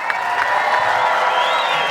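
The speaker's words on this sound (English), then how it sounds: "clap it up one time for this amazing event" A large crowd at a boxing weigh-in cheers and whoops steadily, a dense wall of voices and some clapping that stays loud throughout.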